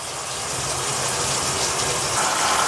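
Steady rush of water pouring from a tap down a kitchen sink drain, with a continuous, fairly loud gushing that holds even throughout, no voices.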